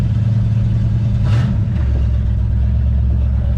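A project car with weak brakes and seemingly low transmission fluid runs steadily in drive, its loud, close engine rumble swelling briefly once, with no talk.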